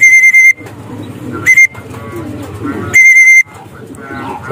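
A racing pigeon comes home to its loft during a training flight, amid sharp repeated whistle blasts, with a person talking close by between them.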